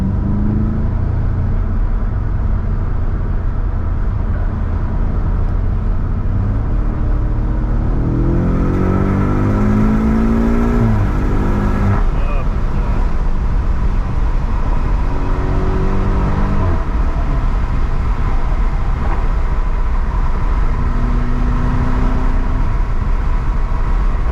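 A BMW accelerating hard during a parade lap at the IMSA Battle on the Bricks event, with the engine note climbing through rising revs, dropping at shifts and climbing again, loud and close over steady road and wind roar.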